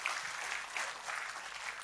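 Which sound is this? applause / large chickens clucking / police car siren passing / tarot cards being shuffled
applause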